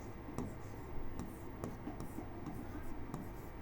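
Faint scratchy strokes of writing on a board during a maths class, irregular short marks over a quiet room hum.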